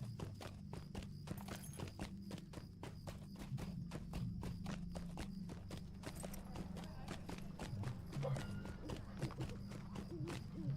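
Quick, regular hoofbeats of a horse in the video game The Lord of the Rings Online clip-clopping at a trotting pace, continuous and fairly faint, with a low steady hum beneath.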